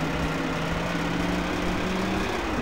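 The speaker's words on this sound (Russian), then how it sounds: "Движок застучал из-за тебя." A car engine knocking in the Garry's Mod video game, heard as a steady droning motor with a buzzing, rattly tone that holds loud and continuous throughout, with no talk over it.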